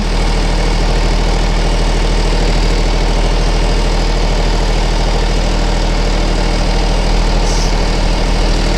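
WEEDINATOR robotic weeding tractor running steadily with a constant low engine drone and vibration, close by and alone with no talk throughout.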